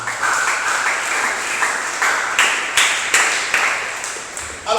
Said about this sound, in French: Est-ce qu'on peut acclamer pour la gloire de Jésus?